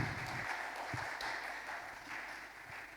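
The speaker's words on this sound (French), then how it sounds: "Applaudissons le Seigneur et asseyez-vous." Congregation applauding during a church service, a dense, steady wash of clapping that stays even throughout with no speech over it.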